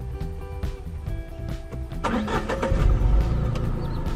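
A car engine that had stalled cranks and catches after fuel is added, turning over for about two seconds before firing into a louder, rough idle that holds steady.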